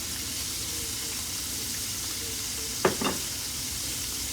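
Green beans and pork sizzle steadily in a pot. Drained potatoes are dumped in, making two quick soft thuds and a brief burst of louder frying before the even hiss resumes.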